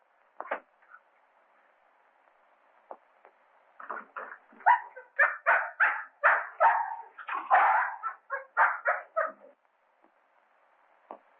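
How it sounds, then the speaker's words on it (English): An injured dog whimpers and yelps in a 1933 mystery film, with a couple of isolated cries first and then a rapid, close run of high, strained whines that fades away. "This dog's been struck a nasty blow."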